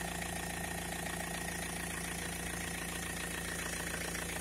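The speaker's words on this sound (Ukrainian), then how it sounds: "так працює двигатель" A BMW E46's engine runs at a smooth, steady idle, heard close by as an even, continuous hum and vibration with no revving or other sounds.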